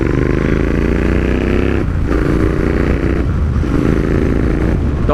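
A Royal Enfield Interceptor 650 motorcycle rides hard through its gears, its loud, steady engine roar briefly dipping at two shifts before pulling again, close and continuous.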